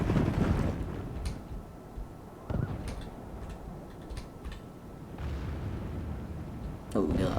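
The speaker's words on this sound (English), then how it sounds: "Oh, God, this bombardment there." Artillery bombardment in the Medieval 2 battle game, with several dull, booming impacts at mid distance spread unevenly across a rumbling battlefield din, some overlapping with faint ticking sounds.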